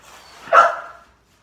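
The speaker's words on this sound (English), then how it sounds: "we have technical difficulties with a dog." A single dog bark rings out close and fairly loud, rising from a faint lead-in to one sharp peak before fading into silence.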